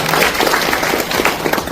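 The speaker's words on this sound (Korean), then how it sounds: "특별히 큰 박수로 환영해 주시기 바랍니다" A crowd applauds a guest being welcomed at a Korean-American leaders' conference, a dense, loud, continuous wash of clapping across the whole moment.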